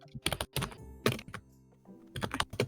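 Fast, furious typing on a computer keyboard, with irregular bursts of key clacks and brief pauses between flurries, heard close and alone with no talking.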